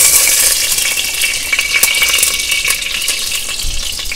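Ghee sizzles and crackles in a hot pan for saffron rice, a close, bright frying hiss with spattering pops and a stir scraping near the end.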